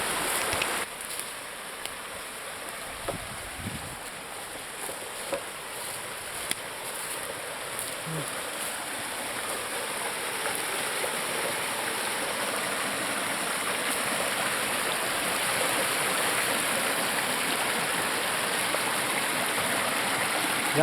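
A mountain stream flows in a continuous broad rush of water between hillsides, a steady wash of moderate loudness that holds from start to finish with no voices.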